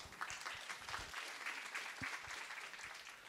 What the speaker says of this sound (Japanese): 皆さん拍手でお願いします。